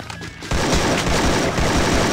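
Sustained automatic gunfire in the mobile shooter Garena Free Fire bursts in suddenly after a brief quiet moment, a loud continuous rattle of shots that fills the rest of the moment.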